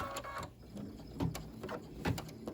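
An embroidery machine stitches down a flip-and-fold piece on a dress boutique scene hanger, giving a soft mechanical whir broken by a few brief louder clacks.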